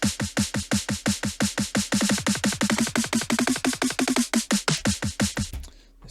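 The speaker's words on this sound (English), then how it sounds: "There's a sort of kick roll kind of thing going on with the drops" Rapid kick drum roll from the build-up of an electronic dance track, steady repeated punchy hits that tighten and quicken before cutting off abruptly, loud and alone.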